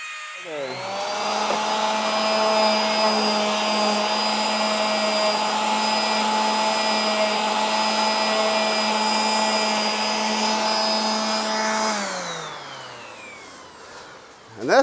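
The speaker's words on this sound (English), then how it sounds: "I'm going to router the edge on this piece" A router cuts along the edge of a wooden piece with a steady, loud high-pitched whine that holds for about twelve seconds, then spins down near the end, with no talk over it.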